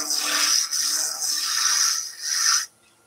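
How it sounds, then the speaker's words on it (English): Wood lathe spinning fast as a skew chisel turns a wooden flower blank, a steady hissing, rasping cut with small dips, close and loud, cutting off abruptly near the end. "We'll get that lathe running nice and fast."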